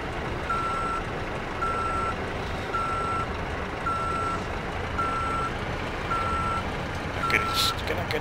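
Repeating reverse-alarm beeps from a truck in Euro Truck Simulator 2, steady evenly spaced pulses about once a second over a constant engine rumble, with a brief hiss near the end.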